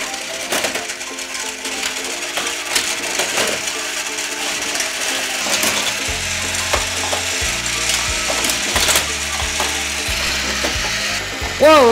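Motorized Tomica parking deck toy running, its gears giving a close, continuous ratcheting click and whir with mechanical clatter, a tune underneath and a short higher whine near the end, with no talk.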